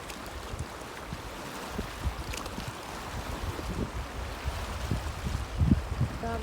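Steady wash of sea water against rock formations at Spanish Point beach, Bermuda, with low rumbling surges and a breezy hiss, continuous and fairly soft throughout, no voices.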